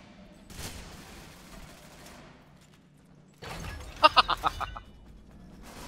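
Gunfire in the video game Ghost Recon Phantoms: a tight burst of four or five sharp rapid shots, loud and close, preceded by quieter rumbling game ambience.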